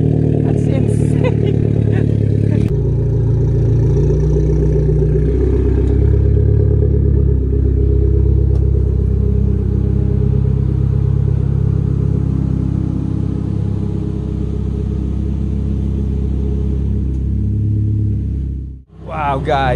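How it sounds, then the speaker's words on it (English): Car engine revving hard with a deep, V8-like rumble, loud and close, holding a throaty drone before dropping off and revving again at the end. "It literally sounds like a supercar. It sounds like a V8."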